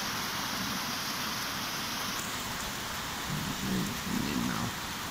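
Heavy rain pours steadily during a thunderstorm over Doniford Bay, Somerset, a dense, loud hiss throughout with a faint low rumble rising near the end.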